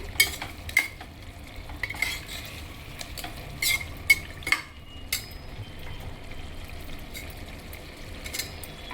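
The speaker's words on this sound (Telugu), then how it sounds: "ముందుగా కట్ చేసి ఉంచాను కదండి, టమాటా వేస్తున్నాను" Chopped tomatoes go into a pan of cooked-down mushroom curry, giving a steady low sizzle and frying hiss with scraping stirs and occasional spoon clinks against the pan, close and continuous without talk.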